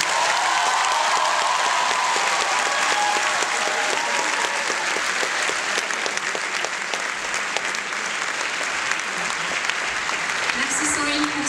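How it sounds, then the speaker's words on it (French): A large crowd at a 2017 school graduation ceremony gives the ceremony's sponsor sustained, dense applause that holds steady and loud for several seconds. "un tonnerre d'applaudissements pour Monsieur David Ranievou"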